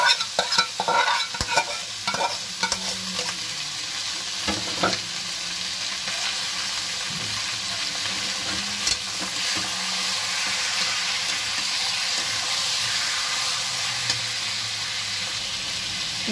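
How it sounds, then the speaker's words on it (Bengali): Marinated chicken sizzles and fries in a pan, a continuous crackling hiss with stirring clatter and scraping near the start, close and loud without any talk. "এবার দিয়ে দেবো ম্যারিনেট করা চিকেনটা, এই যে ম্যারিনেট করে রেখেছিলাম সেই চিকেনটা।"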